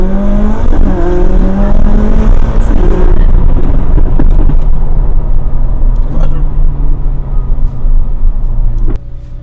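A McLaren 600LT with a loud modified exhaust roars close by, with a rising, revving engine note and hard acceleration that holds steady throughout before briefly easing near the end.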